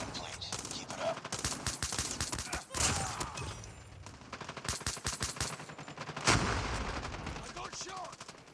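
Rapid automatic gunfire in Call of Duty Mobile, dense bursts of sharp shots in quick rhythm with brief pauses between volleys, loud and close.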